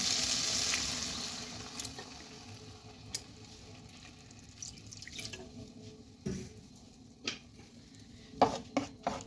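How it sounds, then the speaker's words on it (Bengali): Water hits a pan of softened tomato curry for butter chicken with a short hissing splash and sizzle. Faint drips, pan clinks and spoon taps follow, scattered and close by. "এবার আমি এতে পরিমাণ মতো হালকা জল নিয়ে নেব।"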